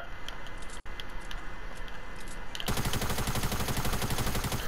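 A thermal gun fires in the video game Fortnite, heard as a dense stream of rapid shots that rattle continuously. The fire grows louder and fuller partway through over steady game background noise.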